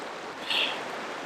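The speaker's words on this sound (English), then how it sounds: "You can tell the water's running behind the trees." A flooded steelhead river runs behind trees in spring, producing a steady, even rushing hiss of water from a distance, with a brief brighter swell midway and no voices.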